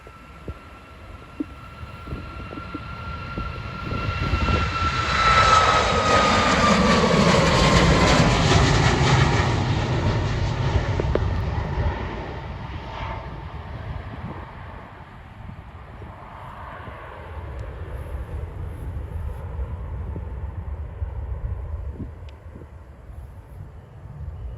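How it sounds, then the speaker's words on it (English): A Ryanair Boeing 737 jet takes off into a headwind from Manchester Airport, its engine roar rising to a loud, whining peak, then fading into a distant rumble as it climbs away. "Taking off now is a Ryanair Boeing 737."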